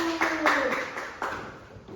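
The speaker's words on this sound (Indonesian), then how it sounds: "Oke, tepuk tangan dulu." Children in an Indonesian primary school class clap their hands together, a short burst of close, fairly loud claps that fades over two seconds, with a voice heard briefly at the start.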